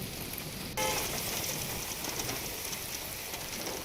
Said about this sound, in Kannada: ಇನ್ನೂ ಕೂಡ ಮಳೆಯ ರಭಸ ಹಾಗೆ ಇದೆ, ಮಳೆಗಿಂತ ಗಾಳಿ ಜೋರಾಗಿದೆ